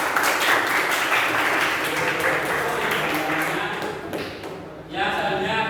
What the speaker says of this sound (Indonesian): Beri aplaus lagi.